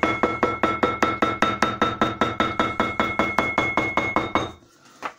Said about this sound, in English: just to use a good strong hammer, nice and flat on the surface, and knock out that shoulder